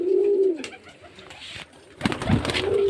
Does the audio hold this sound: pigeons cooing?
yes